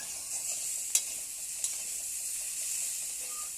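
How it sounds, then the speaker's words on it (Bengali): Potato filling for singara fries in a pan, a steady bright sizzle close by, with two brief spoon taps against the pan as it is stirred, and no voices. "এবারে আলুটা দিয়ে নাড়ছি এবারে ভালো করে"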